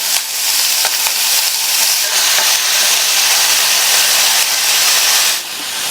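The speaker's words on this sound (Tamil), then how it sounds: "இந்த வெங்காயத்தை லைட்டாக 1 நிமிஷம் போல் வதக்கி விட்டுக்கோங்க" Chopped onion sautéing in hot oil with cumin for a peas gravy, a loud, steady close sizzle and hiss that holds nearly unbroken for about five seconds before easing off at the end.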